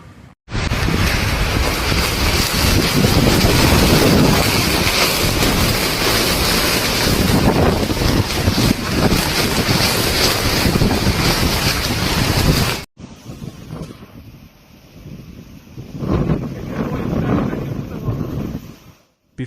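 Typhoon Bavi lashing the coast with powerful winds and storm surge waves, a loud, roaring wall of wind buffeting and crashing surf, then a sudden cut to quieter gusting wind and water noise.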